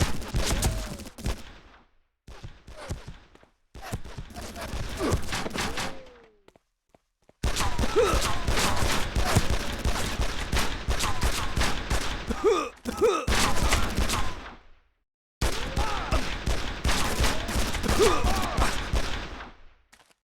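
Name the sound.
gunfire in Made Man video game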